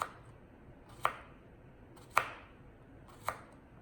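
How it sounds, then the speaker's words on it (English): Three crisp knife strokes slice through cucumber onto a board with a cook's knife, evenly spaced about a second apart, close and clear over a faint room hush. "Chop our cucumber, our cook's knife, our bear claw, and through we go, nice and evenly, slowly"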